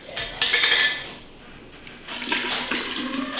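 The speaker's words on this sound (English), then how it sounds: "I'm gonna pour cream into a half-gallon jar" Fresh cream is poured into a half-gallon jar, giving a soft liquid gurgle alongside clinks of glass, in two short bursts separated by a quieter pause.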